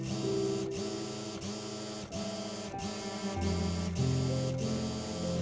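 A sewing machine stitches layers of a frock in a continuous, close mechanical whir with a regular ticking rhythm that holds steady throughout, with no talking.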